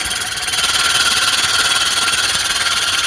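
A reel mower being backlapped, its spinning reel running against the bed knife, gives a steady, loud grinding whir with a fast, even pulsing throughout and no talk.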